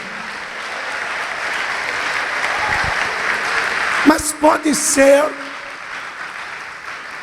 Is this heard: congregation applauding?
yes